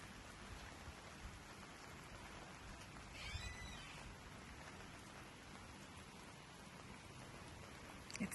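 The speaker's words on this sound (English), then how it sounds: "It's so rare for us to have a rain in August when it's so hot." Rain falls on a hot August day as a soft, steady patter of drops across surfaces, fairly faint and even throughout, with a brief swell near the middle and a louder knock at the very end.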